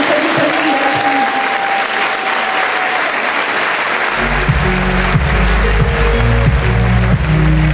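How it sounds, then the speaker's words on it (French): Loud, sustained applause from the crowd for fifteen beauty pageant candidates after their speeches, with music starting up beneath the clapping midway through. "Je crois que vous pouvez les applaudir bien fort,"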